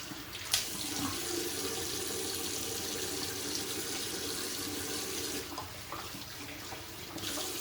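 Steady running tap water at a sink while a shaver rinses off after a wet shave, a continuous close splashing flow that holds for several seconds with slight shifts in texture and no talking.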